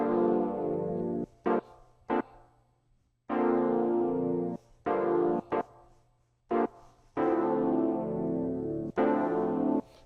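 Acoustic guitar preset chords on an Akai MPC One, played in an octave-down register as several sustained chords separated by short stabs and brief gaps, loud and alone.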